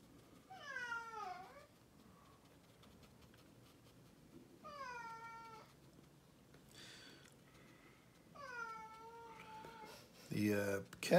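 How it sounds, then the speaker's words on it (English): A cat meows three times in the background, fairly quiet, drawn-out and evenly spaced, with a louder scrape or clatter near the end. "I don't know if you can hear the cat in the background."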